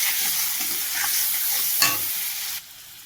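Spice paste of ground dried chilli, ginger, cumin, turmeric and salt sizzles and fries in a pan while being stirred, with a sharp scrape of the spoon near the end before the sizzle drops to a quieter hiss.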